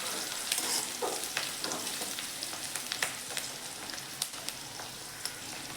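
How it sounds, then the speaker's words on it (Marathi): Onion frying in a pan until browned for a village-style horse gram curry, a steady close sizzle with crackling pops and occasional stirring scrapes, no voices. "कांदा असा चांगला आपल्या बघा ब्राऊन कलरवरती भाजून घ्यायचं आहे."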